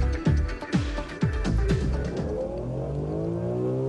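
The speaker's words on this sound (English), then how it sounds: "The M3 on full speed ahead." A BMW M3 accelerates flat out on a test track, its engine note climbing hard through several quick gear changes before holding a steady, loud high-revving drone.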